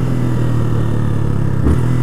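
A new Yamaha Fazer 250 motorcycle, still being broken in, rides with a loud, steady engine drone and a slight rise in pitch as it gains speed; close up, with no talk.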